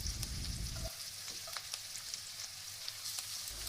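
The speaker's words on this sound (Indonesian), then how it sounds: "Tumis lagi sampai harum dan bawang agak kecoklatan pinggirnya." Onion and garlic sautéing in a pan for a vegetable capcay, a steady close sizzle and crackle of frying that carries on through the whole stretch, with a few light stirring clicks and no talk.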